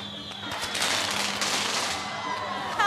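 Yanshui beehive fireworks rockets burst in a dense, nonstop barrage of crackling explosions at a festival in Taiwan, loud and close, with a faint crowd murmur underneath.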